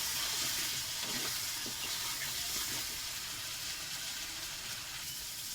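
Potatoes with chopped tomato, pepper and spices fry in a pan under a dense, continuous sizzle and hiss, with soft stirring scrapes mixed in, close and steady throughout.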